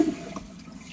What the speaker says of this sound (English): Definitely water going in it.